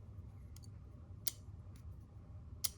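A folding knife, the Artisan Cutlery Andromeda, snaps its lock into place with a few crisp, faint clicks spaced apart over quiet room tone.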